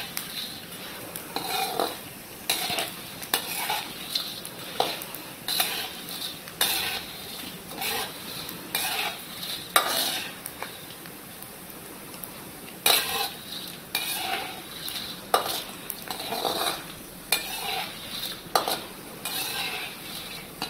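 Pinni mixture roasts gently in a pan while a spoon stirs it, making steady soft scraping and occasional clinks of metal on the pan over a low sizzle. The sounds are close and moderate, with no talking.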